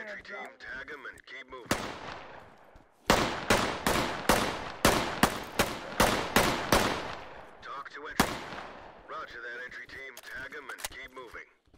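Gunfire rings out in the tactical shooter Ready or Not: loud, sharp shots in a quick burst, then more irregular rapid shots, with voices chattering before and after.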